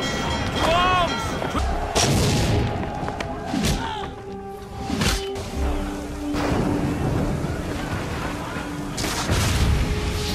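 Cannon fire and explosions in an Assassin's Creed III battle scene, with repeated heavy booms and thuds over a dense, continuous din, joined by a few shouted voices.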